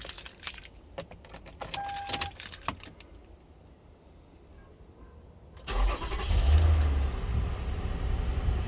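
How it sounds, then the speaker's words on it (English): A 2007–2013 Toyota Kluger Highlander: keys jangle, then the engine cranks and catches, settling into a loud steady idle close by. "now I will start the car"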